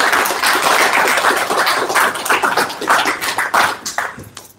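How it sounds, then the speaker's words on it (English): Audience at a SASH annual general meeting applauds, a dense, steady patter of many hands clapping for several seconds, thinning toward the end, with no voices over it. "Thanks for that round of applause"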